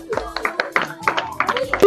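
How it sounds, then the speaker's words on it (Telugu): Students at a home tuition class clap their hands in short, uneven bursts, a few nearby sharp claps rising and falling over about two seconds with no voices over them. "క్లాప్స్ కొట్టండి"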